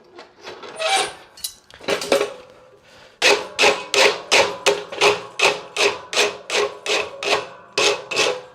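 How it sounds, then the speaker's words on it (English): A farrier's rasp scrapes along the edges of a steel horseshoe, first in a few irregular strokes, then in a steady series of about a dozen loud, rhythmic rasping passes, close and unaccompanied by talk. "I'm going to finish with my rasp, just cleaning up the edges a little bit."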